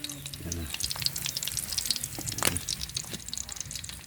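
Paksiw fish fries in a pan after being turned over, a moderate crackling sizzle with bright spattering pops and a few clanks of a utensil, close by and without talk.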